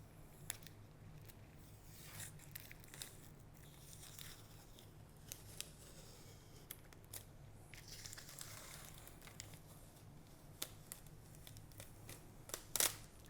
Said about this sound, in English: let's go ahead and remove this film in the front here